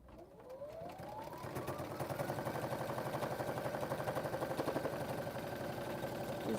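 A sewing machine stitches a quilt block held tight in a hoop, a fast, steady mechanical whir with rapid regular pulses that rises in speed and then holds, fairly quiet, with no talking.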